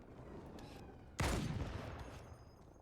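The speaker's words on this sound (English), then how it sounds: "the submachine gun's not bad" A single sharp burst of submachine gun fire in Halo 2, a loud crack with a short decaying tail that stands out from a quiet, hissy game background.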